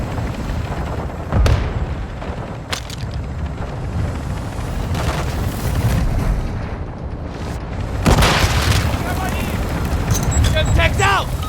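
Grenade blasts and heavy gunfire in Call of Duty MWII DMZ on the Vondel map, loud booms and rattling shots filling the scene, with voices shouting over the chaos.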